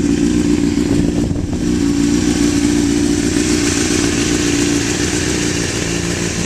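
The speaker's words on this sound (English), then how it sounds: "I had my assistant give me a little rev" Honda CBR1000RR fitted with a Micron exhaust revving steadily, a loud, close, sustained engine roar holding a fairly even pitch throughout, with no voices.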